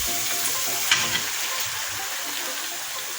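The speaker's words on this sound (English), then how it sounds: "So you can add in your ground beef" Ground beef dropped into a pan of browned onions for spaghetti bolognese, a strong close sizzle with a brief louder hiss and clatter as the meat lands, then steady frying.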